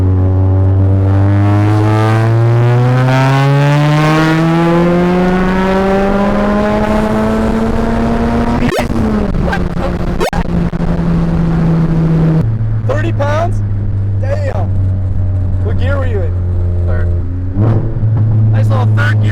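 A big-turbo Ford Focus RS pulls hard in third gear on a road, the loud engine note climbing steadily in pitch. A brief gearshift follows, and then the engine drones on at lower revs.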